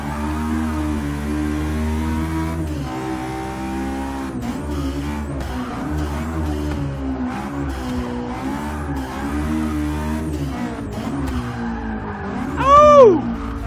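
A turbocharged Honda S2000 laps a race track in Forza 6, its engine droning loudly and steadily, rising and dropping through gear changes, with a sharp tire squeal near the end.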